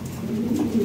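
European Lahore pigeons coo softly in a short, low, throaty murmur, close by and alone with no talk.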